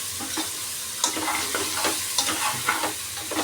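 Unsoaked chana dal fries in a pan for thondekayi (ivy gourd) palya, giving a constant crackling sizzle under repeated scraping stirs, close and moderately loud.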